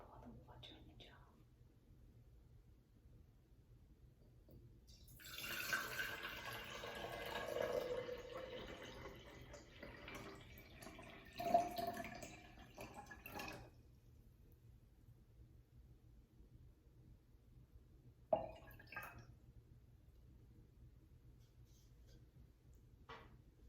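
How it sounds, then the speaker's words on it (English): Water poured into a glass jar, filling it about three-quarters full: a soft, steady trickle and splash close by for several seconds, followed by a few faint knocks and drips in a quiet room. "Listen as I pour the water in the jar."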